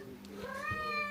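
A seven-month-old cat gives a single clear meow lasting about a second, close and fairly soft, with a rising then falling pitch and no speech over it.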